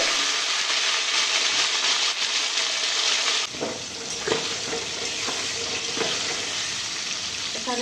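Sliced pointed gourd (potol) fries in hot oil with a loud, continuous crackling sizzle that shifts partway through into a wetter bubbling with scattered spatters and utensil knocks, heard up close without speech.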